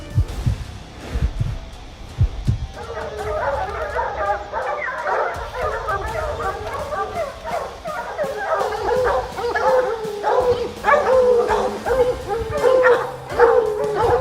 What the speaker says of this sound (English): their barks echoing in the deep, silent forest